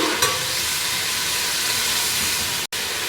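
Whole spices sizzling in hot oil with browned onions for beef pulao, a dense steady hiss and crackle, close, with a short break in the sound near the end.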